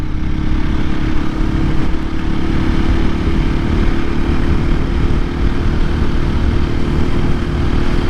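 A 2024 KTM EXC-F 500 Six Days dual sport motorcycle on the road, its engine droning steadily and loudly throughout with constant wind rush and no pauses.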